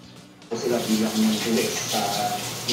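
Household electric water pump kicking on after a quiet moment, then a steady rush of running water with a motor hum underneath, loud and close, and a voice talking over it briefly.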